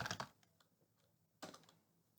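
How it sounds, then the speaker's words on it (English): Keystrokes on a computer keyboard entering a terminal command for a Symfony project: a quick burst of close clicks, a pause with a few scattered taps, then another brisk flurry of typing, no voices. "We can add some more attributes to this entity class by typing bin console make entity."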